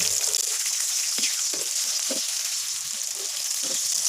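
Potato kebabs fry in a pan with a loud, continuous close sizzle, with several soft pops and light taps scattered through it.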